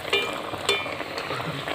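Aloo tikki patties sizzle in hot oil in a kadai, a steady crackling fry with a couple of brief louder spits as the patties go in.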